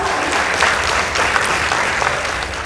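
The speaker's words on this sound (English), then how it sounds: "Let's give them a round of applause." A crowd at a high school debate applauds a debate team, steady dense clapping lasting the whole stretch with no voices over it.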